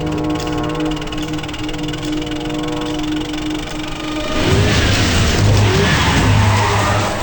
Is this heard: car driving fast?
yes